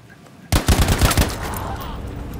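Automatic weapon fire in the Battlefield V video game campaign, a sudden loud burst of about six rapid shots followed by a ringing, reverberant tail with scattered battlefield noise.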